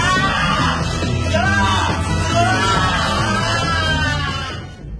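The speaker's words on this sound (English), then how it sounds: "screaming begins. Like uncontrollable, someone is about to get murdered type screaming." Uncontrollable, frantic screaming carries on without a break for several seconds. It sounds loud and dense, as if several voices are layered together, and fades slightly at the very end.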